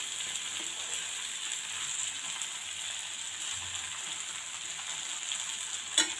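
Kovakka and jackfruit seed mezhukkupuratti fries in oil, a steady hissing sizzle heard close up, with a brief clink near the end and no talking.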